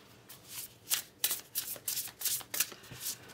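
Tarot cards shuffled by hand: a rapid series of about ten crisp riffling bursts, close and clear, with no talking over them.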